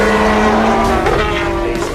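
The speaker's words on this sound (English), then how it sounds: "The 919 Hybrid, with the highly compact, turbocharged 4-cylinder, 2-liter engine, supported by 2 energy recuperation systems" Porsche 919 Hybrid race car with a turbocharged 4-cylinder 2-litre engine and two energy recovery systems, its engine note loud and sustained with steady tonal pitch dropping slightly, no talk.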